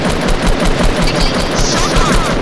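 Rapid video game gunfire rattles in a loud, continuous burst close up, with no pauses across the short stretch.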